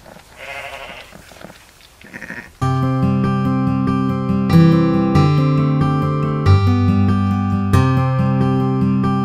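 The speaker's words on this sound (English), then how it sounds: "they'll start a signal to each other, and it's unique to each mother and each lamb what sound to call" Sheep and lambs at a lambing farm bleat back and forth. A few bleats come first, then from about 2.6 seconds a loud, sustained, tonal layer sounds on top of them. The later part is less clearly bleating.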